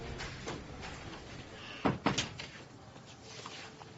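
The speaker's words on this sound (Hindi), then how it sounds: "दरवाजा बंद करो।" A door bangs shut, two quick close thuds in succession in a Hindi-dubbed drama, set against low room ambience with faint voices around it.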